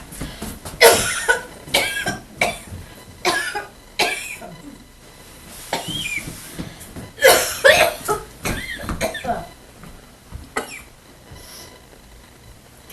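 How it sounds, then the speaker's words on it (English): A man coughs in harsh, irregular fits, several loud clustered bursts separated by short quiet gaps, close and dry with some throaty rasp. "That's a terrible cough."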